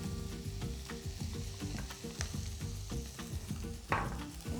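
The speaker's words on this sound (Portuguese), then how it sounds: "Agora eu vou acrescentar o arroz que já está cozido" Cooked rice stirred into a hot pan with dried beef, sizzling and frying steadily with rhythmic scraping and stirring taps close by, and a brief louder clatter near the end.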